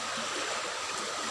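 Water flows steadily like a waterfall, a constant broad rushing wash heard up close with no other sounds.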